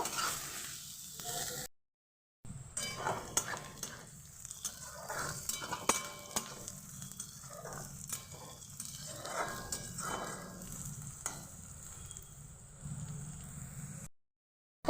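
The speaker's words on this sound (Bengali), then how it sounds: "এটাকে ভালোভাবে আমি নেড়ে দেব আর ভেজে নেব" Steady sizzling of onions frying in a pan, with a spoon stirring and scraping at irregular intervals, close by, with no talking.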